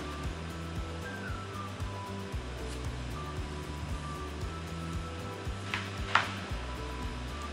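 Taro pieces fry in hot oil with a continuous dense sizzle and hiss, steady and moderately loud, joined by a couple of brief sharp clinks near the end.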